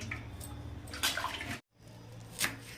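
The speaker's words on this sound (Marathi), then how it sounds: "आपण असं दोन तीन पाण्याने धुवून घेतली म्हणजे माती वगैरे काहीच राहत नाही" Chopped coriander leaves are washed in water, sloshing and splashing in a bowl or basin with brief louder splashes and a short silent gap partway through.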